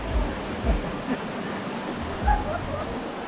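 A river flows steadily in a natural setting in Tanay, Rizal, giving a continuous rushing wash with a few low bumps and no talk.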